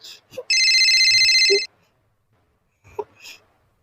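A phone rings with a single loud electronic trill burst lasting about a second, followed by brief soft vocal sounds and breaths in a quiet room.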